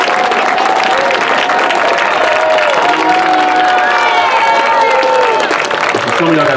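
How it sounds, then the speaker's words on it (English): A graduation commencement crowd cheers and applauds loudly and continuously, dense clapping mixed with shouts, whoops and excited voices throughout, all close and sustained. "So some of y'all got a cheering session."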